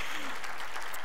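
Steady applause from a crowd, dense and continuous clapping throughout the short moment, moderately close.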